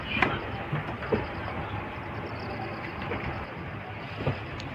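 A train rolls along the track toward Mettur Dam from Salem, a steady broad rumble heard from on board with a few faint knocks of the wheels over rail joints.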